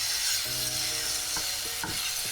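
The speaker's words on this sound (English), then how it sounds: "I want to continue breaking it up, so I don't want big chunks of turkey" Lean ground turkey sizzles steadily in a frying pan while a utensil breaks it into small pieces, with soft scraping and tapping strokes over the continuous close frying hiss.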